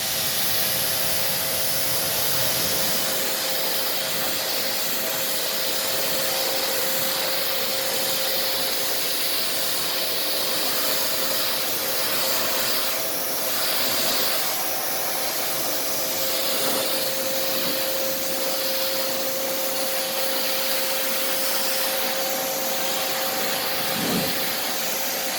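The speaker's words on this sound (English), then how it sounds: "So I will spray it off one more time for you" Water sprays steadily onto coated car panels, a loud, continuous rushing hiss held close for the whole stretch, with no voices.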